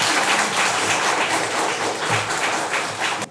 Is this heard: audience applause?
yes